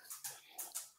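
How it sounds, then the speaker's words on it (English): Dog whimpering and moving around a room, a few faint soft whines and rustles in quick succession over about a second, quiet and close. "my dog's walking around"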